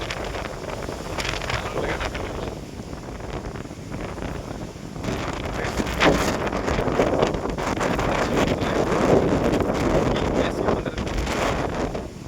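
Strong wind gusts across a hillside cave at Kotebetta, roaring and buffeting the microphone in uneven surges that grow stronger partway through and stay loud to the end.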